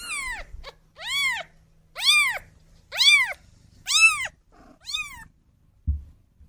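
Young kittens meow six times in a row, each a clear rising-falling cry about a second apart, close and loud over a quiet room, ending with a soft thump.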